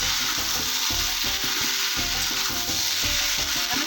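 Bitter gourd and homemade lentil dumplings (bori) fry in hot oil for shukto, giving a constant close sizzle broken by rhythmic spatula scrapes and knocks against the pan, with no one speaking.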